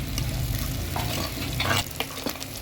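Shallots and about ten garlic cloves sautéing in oil, a dense close sizzle with brisk stirring scrapes toward the end, no voices.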